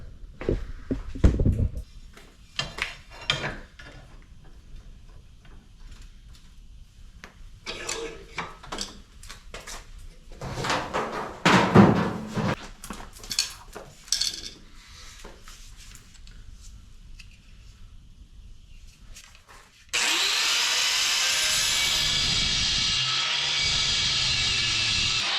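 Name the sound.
cutting metal for a car exhaust bracket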